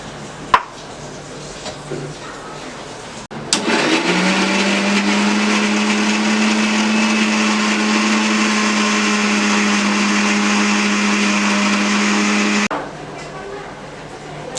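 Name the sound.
mixer grinding ginger and green chilli into paste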